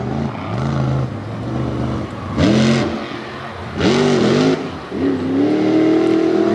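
A monster truck at an All Star Monster Trucks show in Jennerstown, Pennsylvania, loud and close, its engine rising and falling in repeated hard throttle revs with a rough, roaring drone between bursts.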